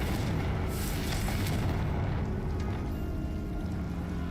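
A Confringo fire spell cast in Hogwarts Legacy unleashes a loud, dense roaring blast that fills the whole clip with rumbling, explosive noise and no break.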